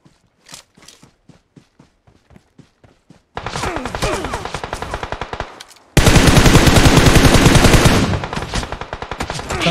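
Gunfire from a battle royale video game: sparse single shots and short bursts at first, then dense sustained automatic fire growing louder and closer, with a fierce continuous volley near the end.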